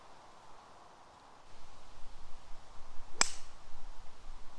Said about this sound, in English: we make a great connection with the tee shot. Great sound on that one.